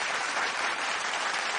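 Studio audience applause during a game segment of a Kannada TV show, a thick, continuous wash of clapping from a crowd, loud and steady from start to finish.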